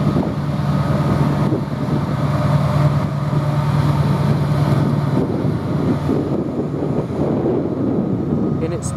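Gusty wind buffeting the microphone at Banbury railway station on the Chiltern Main Line, a steady close roar with a low engine hum running beneath it through most of the stretch.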